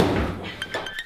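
A wooden tool drawer is hit and rattled, a thunk followed by a few light metallic clinks and rattles, close and brief.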